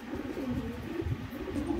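Low, throaty cooing from white Madrasi pigeons, soft overlapping coos running steadily through the short stretch.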